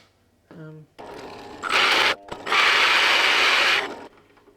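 A power tool cuts discs out of a wooden board. It starts with a brief whirr, then two long, loud, harsh bursts of cutting with a short pause between them, before winding down.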